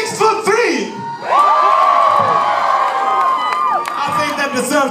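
A live concert crowd at The Observatory in Orange County cheers, whoops and shouts loudly and continuously, a sustained roar of many voices with high yells rising above it.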